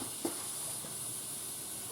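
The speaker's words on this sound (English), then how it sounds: "let all the steam come out" Steam hisses out of a pressure cooker that has been cooking a pork roast. The hiss is steady and moderately quiet, with a brief soft knock near the start and no one talking.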